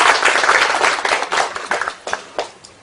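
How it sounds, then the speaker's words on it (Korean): An audience at a Korean internet industry year-end event claps loudly and warmly welcoming a professor, the applause fading gradually into scattered claps near the end. "힘찬 박수로 환영해 주시기 부탁드리겠습니다"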